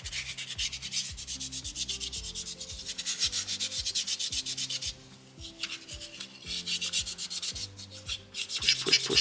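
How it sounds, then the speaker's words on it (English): Sandpaper is rubbed back and forth over a soapstone owl carving to smooth it, giving a steady rhythmic scratchy rasp of repeated close strokes with a brief lighter patch midway. "Now I'm focused mostly on just smoothing this stone."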